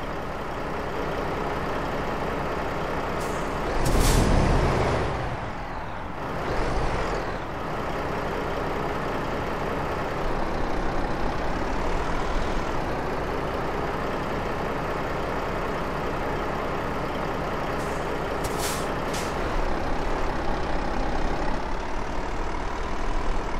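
Volvo truck engine in the Euro Truck Simulator 2 video game, a steady low idling rumble with a couple of brief louder hissing bursts like air brakes, continuous and fairly quiet.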